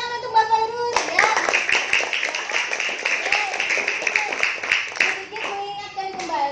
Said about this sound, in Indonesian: tepuk tangan untuk Mbak Fairu.